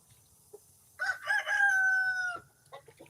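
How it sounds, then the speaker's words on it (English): A rooster crows once at close range, a single drawn-out call rising and holding before trailing off, with a few soft clucks and rustles around it. "Yeah, yeah, Rooster."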